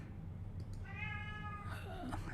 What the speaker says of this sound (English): That was my cat meowing his appreciation.